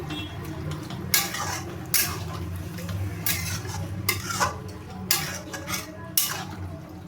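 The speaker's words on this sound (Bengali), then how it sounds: "একটু ভালো করে নাড়িয়ে দেবো" A spoon scrapes and clinks through chicken in boiling chicken stock in a pot, with several sharp metallic stirring knocks at irregular intervals over a low steady simmer.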